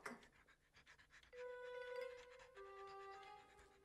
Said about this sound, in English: Is that your little dog?